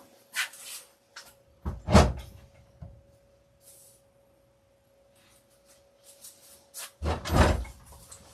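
A door near an airbrush lure-painting bench opens and later shuts, two distinct knocks with a brief rattle and a second thud about five seconds apart, fairly close in a quiet room with a faint steady hum.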